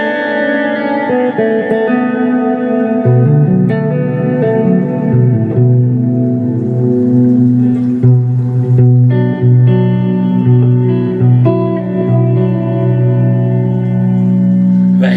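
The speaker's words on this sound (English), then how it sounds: "So this is one reverb." An electric guitar runs through a reverb pedal, sustained chords ringing with a long washing tail, loud and steady, with no one speaking.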